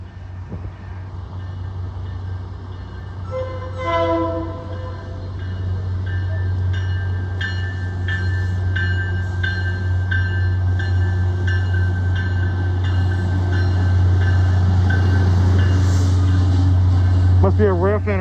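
An MBTA F40PH-3C diesel locomotive running inbound toward North Station, a loud low steady engine drone building as it passes with rhythmic wheel and car clatter, and brief voices near the start.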